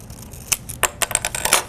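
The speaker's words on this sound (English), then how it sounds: "I'm going to cut the film off of the little spindle" Scissors snipping 35mm black-and-white film free from the cassette spindle, a few quick, close metallic clicks and snips packed into under two seconds.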